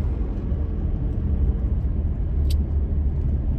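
A car's engine and road rumble while it is being driven: a steady, low, droning hum heard from inside the vehicle, with no talking and only a faint click partway through.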